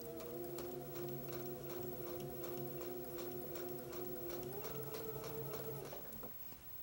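A sewing machine hums and ticks in a fast, steady run while stitching quilt fabric, its motor pitch rising slightly before it stops near the end; the sound is close, continuous and free of talk.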